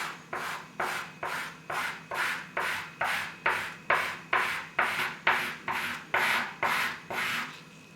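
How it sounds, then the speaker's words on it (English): Hand sanding on a hinge with 400 grit sandpaper, a steady series of about fourteen rhythmic rasping strokes close up, each stroke a short scratchy swipe, with no voices. "So I use 400 grit sandpaper in an inconspicuous spot to see if sanding removes any"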